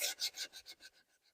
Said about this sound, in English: So I just like to take some sandpaper and get that